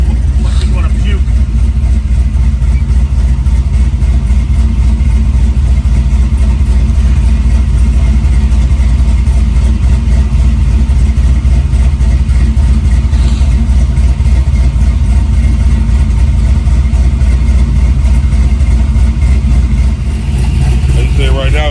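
A car engine running with its transmission engaged, a loud constant low drone holding a steady pitch for the whole stretch, with voices talking over it.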